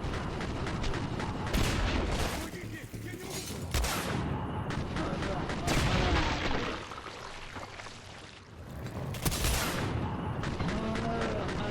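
Rapid bursts of gunfire from weapons such as the Seeker in the shooter game Singularity, dense and loud, with mechanical clanks and brief lulls between volleys.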